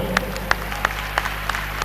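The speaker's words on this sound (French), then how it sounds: "On peut l'applaudir encore" At a national French spelling contest in Bamako, an audience applauds a previous winner; sparse, evenly spaced claps sound about three times a second over a steady electrical hum, with no clear talking.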